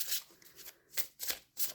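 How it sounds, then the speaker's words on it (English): A deck of playing cards being riffle-shuffled by hand, several quick crisp ruffling bursts in close succession, near and alone with no voices. "And very easy to shuffle."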